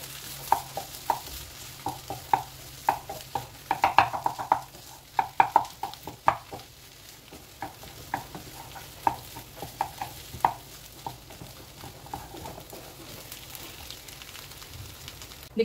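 Spiced boiled-potato samosa filling is roasted in a pan while a spoon scrapes and taps against it in irregular repeated strokes over a soft background sizzle, with no talk.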